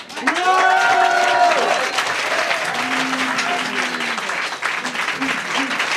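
Applause from a slam poetry audience for a poet in France, a steady broadband wash of clapping filling the room, with voices calling out and speaking over it throughout.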